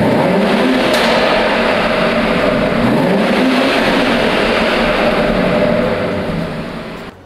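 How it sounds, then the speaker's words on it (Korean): BMW X3 M Competition SUV with a 3.0-litre engine revving hard, a loud, close and sustained exhaust roar with rising and falling pitch swells that drops away at the end. "이 차량 배기음 들어볼게요"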